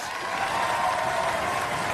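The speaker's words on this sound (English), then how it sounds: "Give Roadblock a round of applause!" A studio audience claps and cheers for the robot Roadblock at a robot combat competition semifinal, a dense, steady burst of applause lasting a couple of seconds.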